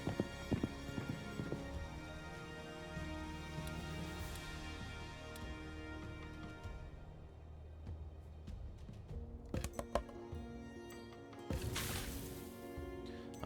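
Horse hooves clip-clop in the video game Sherlock Holmes: Crimes and Punishments, quiet and rhythmic beneath game music.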